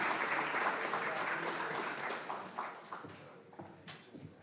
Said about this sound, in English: Let's give everybody a nice round of applause.